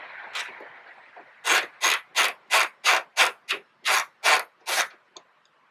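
A ratchet wrench works two 12 mm bolts loose on the hood lift support of a 2019 Toyota RAV4: about ten evenly spaced, close, crisp ratcheting strokes after a softer start, with no talking.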